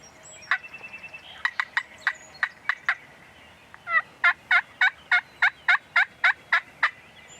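A big wild turkey tom gobbles repeatedly on a hunt, with a quick run of sharp gobbling calls followed by a longer, louder string of about a dozen evenly spaced calls, close and clear with no talk over them.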